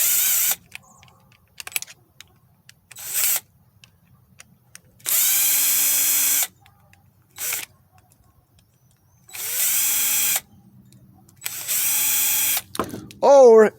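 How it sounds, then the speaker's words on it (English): A power drill spins in several short, loud bursts while removing a carburetor primer valve, with quiet pauses and small clicks between bursts and a rising whir at the end. "You can use a power drill."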